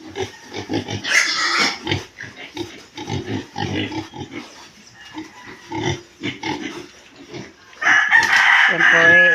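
Piglets feeding, with grunts and squeals at a farm pen, a rooster crowing loudly near the end, and background talking throughout.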